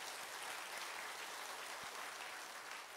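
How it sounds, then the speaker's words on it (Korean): Applause from a church congregation during a sermon, a steady wash of many hands clapping that fills the whole stretch at moderate, even loudness with no voices on top. "이렇게 보이지 않는 곳에 섬기는 분들에서 박수 한번 해주세요."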